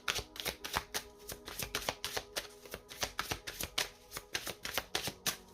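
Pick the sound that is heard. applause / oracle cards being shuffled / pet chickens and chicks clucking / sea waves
oracle cards being shuffled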